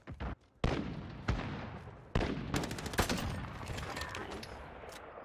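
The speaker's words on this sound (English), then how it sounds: "A nade hit." Combat in a video game shooter: a sharp grenade explosion bursts out, followed by more heavy blasts and rattling gunfire crackling in quick succession at loud, close range.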